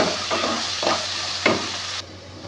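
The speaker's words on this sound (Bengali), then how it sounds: "এবার পেঁয়াজটাকে আমি একটু লাল লাল করে ভেজে নেব।" Salted chopped onion fries in hot oil until reddish-brown, giving a loud, constant sizzle close by. Three or four spatula strokes stir through it at a slow rhythm, and the sizzle drops slightly near the end.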